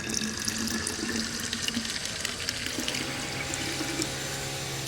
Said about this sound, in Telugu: దీని నిండా వాటర్ పెట్టేద్దాము